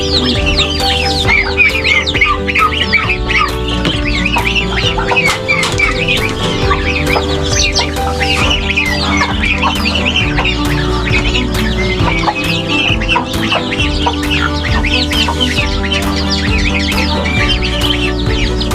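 Chickens cluck continuously beside newly hatched chicks that cheep and peep in a busy, close chorus, with layered overlapping calls and no talking.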